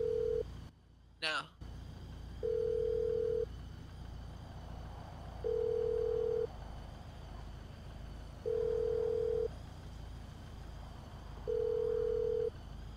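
An unanswered phone call in GTA 5 roleplay: a repeating electronic ringback tone in one-second bursts spaced about two seconds apart, steady and clear over a quiet low hum, with a brief clatter near the start.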